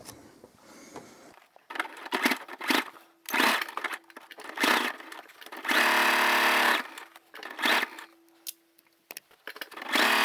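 A sewing machine stitches through the thick, bulky bottom seam of a backpack made from Dollar Tree placemats, running in several short bursts of varying length with pauses between them, loud and close, with no talk over it.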